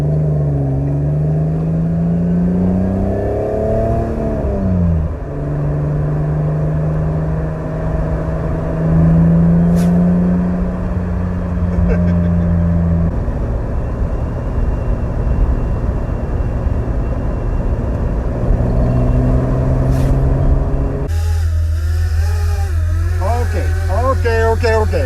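A BMW Z1 roadster, a first-owner car, drives steadily with a loud, close engine drone that rises and shifts through gears, with constant road and wind rumble underneath.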